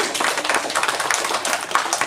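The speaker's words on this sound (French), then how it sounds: "Oh, bah c'est bien, on peut l'applaudir," A small group claps for the dog Atoll, quick and steady applause close by that carries on without talk for about two seconds.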